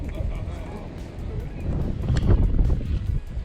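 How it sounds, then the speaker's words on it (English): Wind gusts buffet the microphone by a river park in Florida ahead of Hurricane Idalia, a low rumbling roar that swells toward the end, with people talking over it. "the wind is picking up a little bit"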